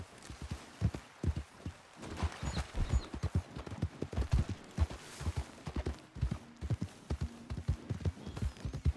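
Horse hooves galloping in the video game Red Dead Online, a rapid rhythmic clip-clop of repeated hoofbeats, fairly close, with a brief snort-like sound, no talk over them.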